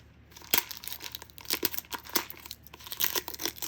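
Plastic cups of LEGO parts sealed with tape are pulled open close up, giving a quick run of crinkling, tearing bursts with no talking.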